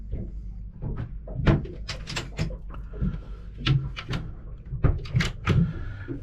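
Drawers beneath the bed in a cabin of a 2019 Princess 70 yacht are slid and shut, producing a run of close, sharp thumps, clicks and rattles in irregular bursts over several seconds.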